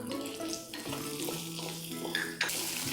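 Onions dropped into a hot pan with ginger, garlic and tamarind for chutney, a steady sizzle and frying hiss with a few louder bursts and clatters, moderately close, with no talk.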